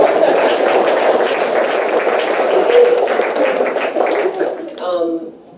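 Audience applause fills a conversation event, a steady wash of many hands clapping throughout before tapering off, with a voice speaking briefly at the end.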